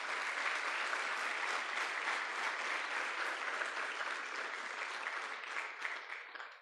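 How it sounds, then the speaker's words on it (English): A conference audience gives steady, sustained applause for the panelists of a plenary session at an annual international research conference, a dense, even clatter of many hands that fades slightly at the end. "Please join us in welcoming them with a huge round of applause."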